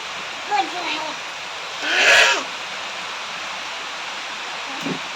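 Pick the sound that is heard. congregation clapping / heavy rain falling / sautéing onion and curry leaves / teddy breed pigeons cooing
heavy rain falling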